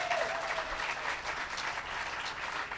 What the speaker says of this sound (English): Let's give Lin-Manuel Miranda a round of applause